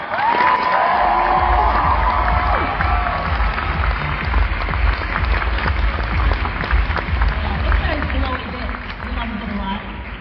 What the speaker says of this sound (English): Everyone, give a cheer!